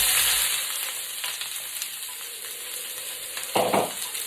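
Vegetables fry in warm olive oil with a bright, steady sizzle that eases slightly midway, then a short burst of stirring rattle near the end, close and without voices.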